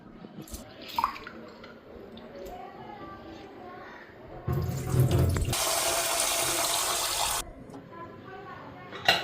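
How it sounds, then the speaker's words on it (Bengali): Raw rice washed under running water in a home kitchen: a close, steady gush of tap water pours for about two seconds after quieter rinsing and splashing sounds. "এদিকে চালটা ধুয়ে আনি।"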